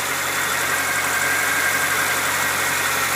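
A Ford Ranger engine idles steadily while being checked for vacuum leaks, a constant close mid-pitched hum with faint vibration and no change in speed, alone without talk.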